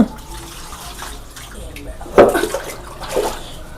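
Tap water runs steadily while fish are washed at home, with a couple of louder splashes and clatters partway through.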